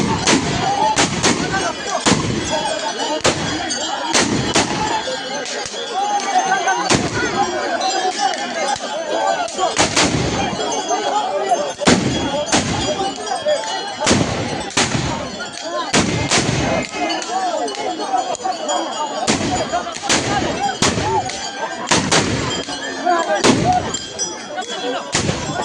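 Guns fired during the Wancho Oriah festival in Arunachal Pradesh, a long run of loud, sharp outdoor bangs at irregular intervals, some in quick pairs, with voices faintly in between.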